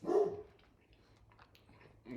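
A Labrador barks once, loud and close, at the start, then only faint low background noise follows.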